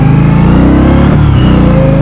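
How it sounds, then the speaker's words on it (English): Exhaust of a 2016 Indian Scout motorcycle rumbling loud and close while riding, a deep steady engine drone with slight shifts in pitch. "See, it's this nice exhaust."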